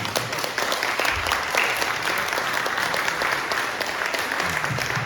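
A church congregation at a Sunday worship service during a summer retreat bursts into loud, sustained clapping that continues evenly throughout.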